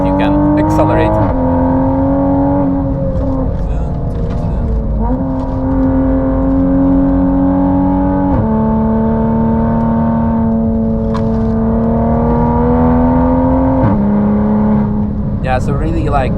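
A 910 hp hybrid turbo Toyota Supra accelerates on the Nürburgring, heard from inside the car. The engine drones loud and steady, with its pitch climbing through each gear and dropping at the shifts.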